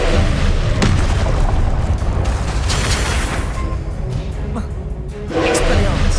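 Fiery spell blasts booming in Hogwarts Legacy combat, loud repeated explosive bursts with crackling debris over a continuous roar of battle noise.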